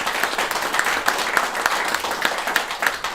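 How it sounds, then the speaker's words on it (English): An audience at a women-in-jazz concert gives the Arts Council for Long Beach a round of applause: dense, lively clapping with a loosely rhythmic pulse of brighter claps throughout. "you can give us a round of applause."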